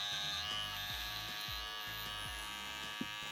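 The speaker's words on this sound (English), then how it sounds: "Now I'm coming with my trimmer." An electric hair trimmer buzzes steadily while cutting curly hair during a high fade, a close, constant whine with small pitch dips as the blade moves through the hair, and no talk.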